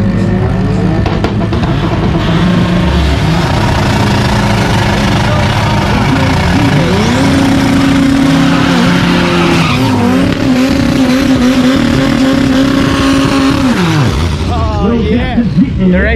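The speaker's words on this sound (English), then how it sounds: "That's a very weird, unexpected launch. Diesel power, boy." A diesel drag racing car launches at a South African drag strip, its engine roaring loud and close with tire squeal, the note rising and holding through the run before dropping off, with voices over the racket.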